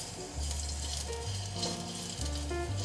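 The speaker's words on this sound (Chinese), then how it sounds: "锅内放入适量的油，把姜片放进来煸香" Ginger slices fry in hot oil in a pan, giving a steady, loud sizzle that swells after a brief quieter start and carries on without pause; no one speaks.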